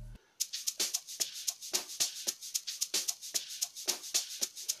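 A sgija amapiano drum beat programmed in the Caustic 3 music app plays as a crisp, evenly spaced loop of sharp percussive hits, shaker and snare, with steady rhythm, clean and without voices.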